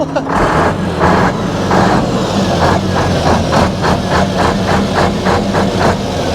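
An Iveco heavy truck engine is revved hard, a loud, close, rough diesel roar with repeated rhythmic pulses swelling and easing throughout.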